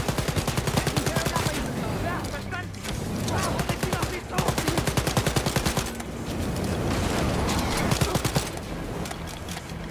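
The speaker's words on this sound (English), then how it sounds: "Alright, you only can fire two shots at a time." Rapid, loud bursts of automatic gunfire from the video game Wolfenstein: Youngblood rattle in quick rhythmic volleys with short pauses, over game music and ambience, with a voice talking at times.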